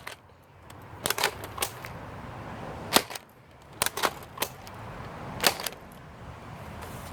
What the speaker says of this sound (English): And now the Diatron, which of course fires 2 at a time